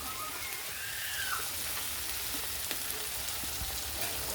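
Masala spices frying in a pan for a fish and tomato sauce curry, a soft, steady crackling sizzle throughout with a few faint stirring scrapes, no talking.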